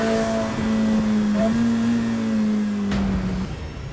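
A high-revving Ferrari F8 Tributo V8 engine holds a steady, loud tone, rising slightly in pitch, then eases off near the end; no voices.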